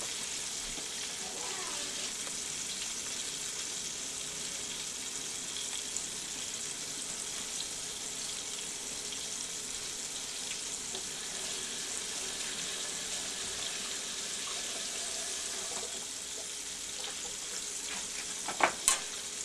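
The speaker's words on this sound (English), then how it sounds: "Now you can see it frying away." Steady, broadband frying crackle from squirrel meat in a skillet, continuous throughout, with a couple of sharp clinks near the end.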